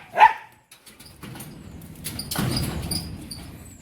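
A dog barks once, loud and close, at the start, then the scene settles into low rumbling background noise at a home with dogs lying outside a gate.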